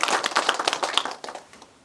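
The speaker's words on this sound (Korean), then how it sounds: "우리 모두를 위해서 박수 한번 쳐주시면 감사하겠습니다." Applause from an audience at a district council policy forum in Incheon's Dong-gu, a dense patter of many hands clapping steadily for nearly two seconds, then thinning and fading toward the end.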